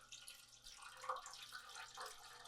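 Wort pours from the valve of a brew kettle into a vessel below, a steady, splashing stream of liquid that runs on close and fairly quiet throughout.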